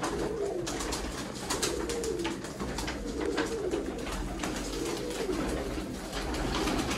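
Pigeons coo in repeated soft, rolling phrases close by, among a group of about 120 birds, with rustling and faint background noise throughout and no speech.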